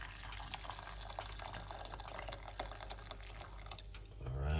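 Hot water pours steadily into a container as a continuous splashing, filling rush, close and fairly loud, with a heavier gurgle at the very end.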